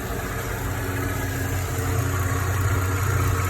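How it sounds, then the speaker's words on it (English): A 2009 Mercedes E350 engine, just fitted with a new serpentine belt, pulley and tensioner, fires up and settles into a steady, smooth idle with a deep low hum, close and continuous without any talk. "She fires up nice and easy."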